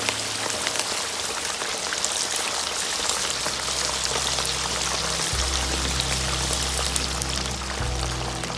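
A whole turkey being lowered into a pot of hot frying oil sets off a loud, continuous, close-up bubbling sizzle like heavy rain, with a low burner rumble underneath and no talk.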